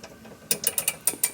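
A hand ratchet turns the trailing arm bolt on a DeLorean, giving a short run of about six crisp clicks that are close and clear, with no talk over them.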